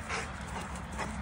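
A Rottweiler puppy whimpering and panting: soft, rapid breathy pants with faint whines, close but quiet, over a steady background hum.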